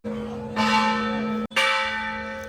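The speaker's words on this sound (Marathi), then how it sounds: "दुसऱ्या दरवाजाच्या इथे घंटा वाजवली जाते" A metal temple bell at a hill fort gateway is struck twice, each strike ringing out loud and bright with a sustained, shimmering tone.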